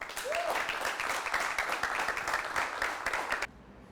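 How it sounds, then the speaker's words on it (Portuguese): Audience applauding a poet at a poetry performance, a steady wash of clapping at moderate level that cuts off abruptly near the end, with a brief whistle early on. "Com vocês, Átila Gonçalves, uma salva de palmas"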